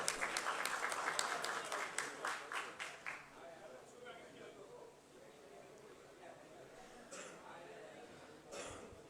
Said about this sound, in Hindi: भरपूर तालियां कलीम खान साहब के लिए